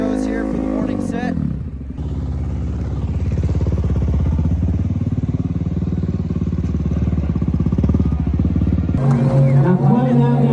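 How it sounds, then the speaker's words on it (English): An FMX motocross motorcycle engine runs at a freestyle show, a loud, close mechanical drone that holds steady for several seconds, with people talking briefly before and after it. "Have a listen to the sound of this motorcycle."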